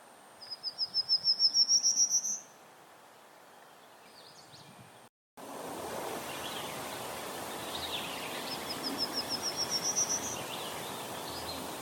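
A male prairie warbler on territory in mixed conifer and hardwood shrubbery sings two different songs, each a rising series of thin buzzy notes. The first is clear and fairly near, the second fainter, over a steady insect hum.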